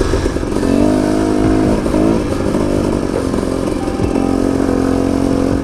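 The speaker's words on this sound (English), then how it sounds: "The idle just gets a little high with this Electron." A high idle from an Electron dirt motorcycle engine with the clutch pulled in, a steady loud buzzing drone with slight wavering pitch, close by and continuous with no talking.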